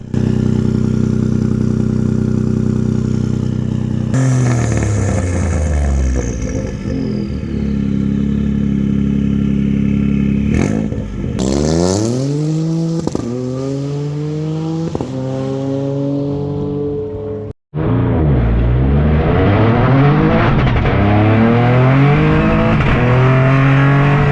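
A loud Toyota GR Yaris engine revs hard and climbs through the gears, exhaust roaring and popping like a rally car, with a brief cut between shifts before accelerating again.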